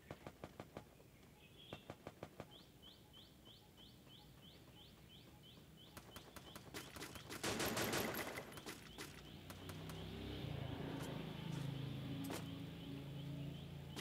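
Quick bursts of M16 rifle fire crackle in a mobile shooter game, short volleys of rapid shots at the start, then a denser fusillade midway over steady game ambience and faint chirping effects.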